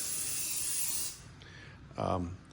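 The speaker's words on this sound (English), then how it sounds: "I shake it up and I spray it on pretty liberally, just all over the bike" A steady aerosol cleaner spray hisses onto a Honda Gold Wing motorcycle for over a second, then stops, leaving quiet room noise and a brief voice-like sound near the end.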